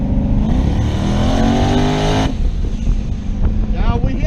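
Car fitted with Holley EFI and a 4-port MAC valve boost controller accelerating in a third gear roll-on, a loud rising engine note that climbs steadily then cuts abruptly into a rougher, lower rumble, with a voice audible underneath.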